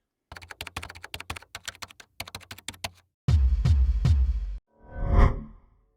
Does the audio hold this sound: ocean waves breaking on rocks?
no